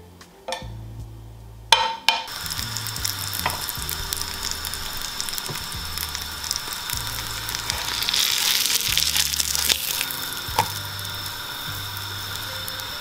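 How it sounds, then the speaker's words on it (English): Potato scones frying in butter in a pan, a steady close sizzle running throughout with a few sharp clicks and knocks of a utensil against the pan near the start. "we're just going to fry it on both sides for a couple of minutes until it's nice and golden crispy"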